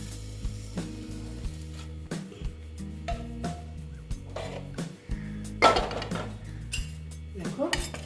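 A metal plate clinks and scrapes against a pan holding pabda fish paturi, several sharp knocks and clatters spread out over a low steady hiss; close, with no talk.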